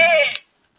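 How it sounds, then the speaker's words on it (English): A single short goat bleat heard close up, a brief wavering cry that cuts off quickly and leaves near silence. "that's a goat"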